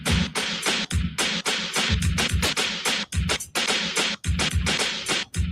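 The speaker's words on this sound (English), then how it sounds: "if I trick mix with the snare, it's going to sound like this" Snare drum trick-mixed back and forth between two turntables by a DJ, a dense, driving stream of close, loud snare hits and beat fragments ping-ponging in quick succession, no voices.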